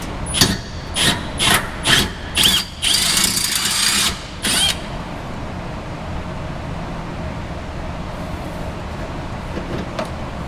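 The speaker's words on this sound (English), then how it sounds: "Now I'm gonna drill a hole through there" A power drill whirs in several short bursts, then one longer run, drilling a hole for a rivnut in a 2nd-gen Dodge Ram 1500, before stopping and leaving quiet background hum.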